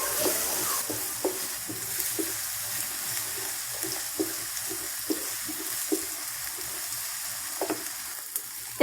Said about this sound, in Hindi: इसको भी हम प्याज के साथ ही भून लेंगे।